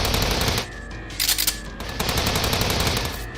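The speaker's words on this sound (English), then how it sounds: "I forgot how loud the gunfire in this game was through headphones." Loud, rapid bursts of automatic gunfire from the video game Steins;Gate 0, heard through headphones, crackle in dense volleys, close and harsh, with brief lulls between sustained stretches of shooting.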